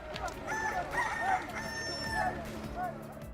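A rooster crows, a long rising-and-falling cock-a-doodle-doo up close, with clucking fowl and farmyard murmur underneath.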